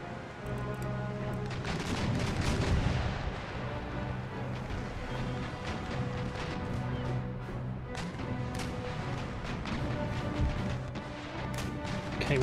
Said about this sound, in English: Fire a good broadside into that ship.